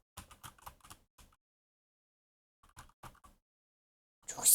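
Quick bursts of typing on a computer keyboard, a rapid cluster of clicks followed by silence, then a shorter burst, with a louder rustling knock at the end.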